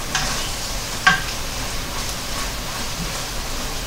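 Meat browns in a pan, a steady close sizzle and frying hiss that carries on evenly throughout, with a single light clink partway and no talk.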